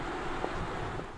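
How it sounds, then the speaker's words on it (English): An Audi R8 e-tron electric supercar running with no engine sound: only a steady broadband rush of tire roll and wind noise, even and continuous for about a second, with no voices. "Just tire and wind noises."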